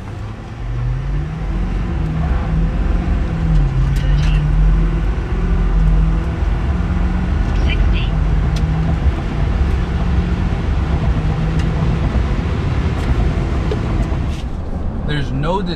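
A Ford F250 HO PowerStroke diesel pickup truck accelerating hard through a 10-speed transmission, its engine note rising and shifting through gears, with a steady loud rumble throughout and a voice talking over it.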